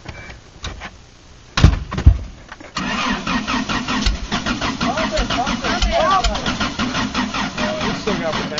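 A truck engine with a weak battery cranks after a few thuds, grinding in a steady labored rhythm up close without catching.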